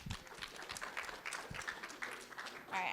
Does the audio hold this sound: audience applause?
yes